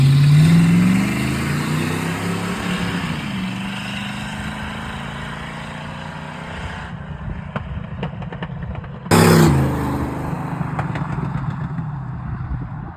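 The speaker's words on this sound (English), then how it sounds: "Took the car out for a run." A car's engine revs and pulls away on a road run, loud at first then easing to a steady drone, with a sharp burst of engine noise returning near the end.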